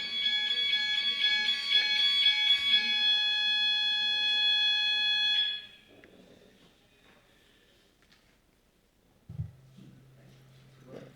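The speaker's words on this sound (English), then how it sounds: "was a fire alarm. 12 o'clock on Wednesday." A fire alarm test in a council meeting room: a loud, steady electronic ringing tone sounds for about five seconds, then cuts off, leaving a quiet room with faint shuffling and a brief low hum near the end.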